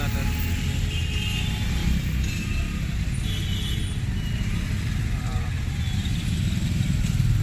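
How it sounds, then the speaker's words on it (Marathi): Heavy traffic on a busy main road in Pune: a dense, continuous rumble of motorcycle and car engines passing close by, steady throughout, with faint voices mixed into the din. "ट्रॅफिक खूप आहे ट्रॅफिक इथं"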